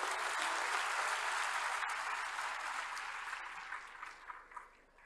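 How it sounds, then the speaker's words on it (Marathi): At a skill development department graduation ceremony in Nagpur, a large indoor audience bursts into dense, sustained applause that holds steady, then thins and tapers off toward the end. "बसा एकदा टाळ्या आपल्या करता, स्वतः करता"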